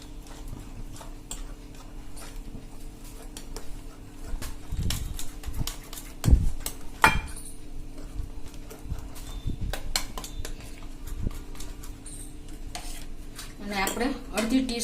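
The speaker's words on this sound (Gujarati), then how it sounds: "અને આ બધું હવે આપણે મિક્સ કરી લેશું।" A spoon stirs spices into a coriander bhajiya batter in a bowl, making irregular close clinks and scrapes against the bowl with a few sharper knocks, moderately loud over a faint steady background hum.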